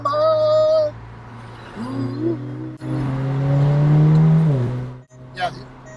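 A VW Golf R with a new downpipe driving on the road, engine droning and revving with pitch sweeps as throttle comes on and off, loud and close.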